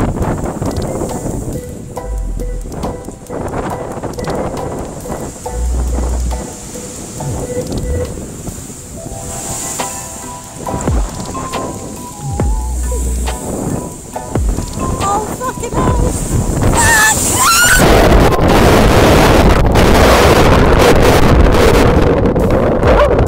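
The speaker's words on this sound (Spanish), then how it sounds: "fue golpeada por una ola enorme que casi se la lleva de regreso al mar en Freshwater Bay" A huge ocean wave surges and crashes ashore at Freshwater Bay, a loud, sustained roar of churning water and wind that swells and intensifies toward the end, with no talking.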